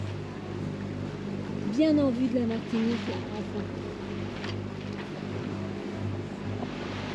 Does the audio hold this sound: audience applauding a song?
no